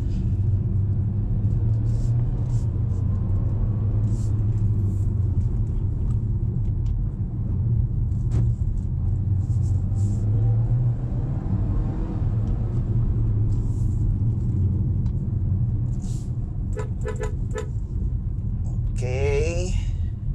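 A GAC Empow accelerating hard in Sport Plus mode, heard as a steady deep engine and road rumble from inside the cabin, with a person talking over it throughout.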